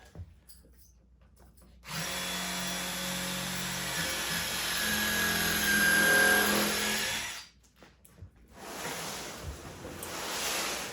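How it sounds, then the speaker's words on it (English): Power drill with a bit whirs steadily for several seconds, rising slightly under load while boring into an upholstered booth seat frame during spring replacement, then stops briefly and starts again with a rougher burst. "Get another drill bit"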